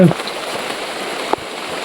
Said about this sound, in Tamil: மழை வேற வந்துட்டே இருக்கு, மிஸ்ட் ரொம்ப அதிகமாயிட்டே இருக்கு